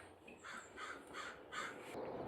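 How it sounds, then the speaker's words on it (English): Crows in the trees outside give a run of harsh caws, about four of them, fairly distant and faint, with no voices. "the birds are really loud"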